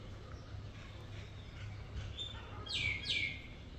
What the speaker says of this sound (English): Whole bunch of birds here